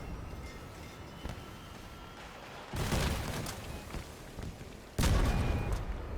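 Heavy cannon fire and explosions in the vehicle combat game Crossout: two loud booming blasts with rumbling tails, the second sharper and louder, over a steady background of engine and battle noise.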